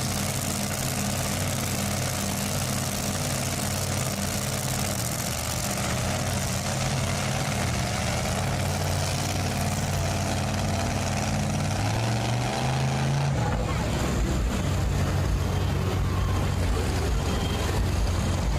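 A Super Modified 4x4 pulling truck engine roars steadily at a county fair truck and tractor pull. The loud, sustained drone shifts pitch and character near the end.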